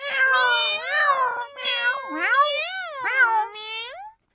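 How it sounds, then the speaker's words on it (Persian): Several cats meow in turn, a run of drawn-out, rising and falling cries that overlap closely and fill about four seconds before stopping. "گربه ها با میو کردن جواب خاله رو میدادن"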